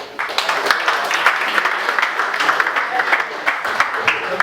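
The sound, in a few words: audience applause at a ceremony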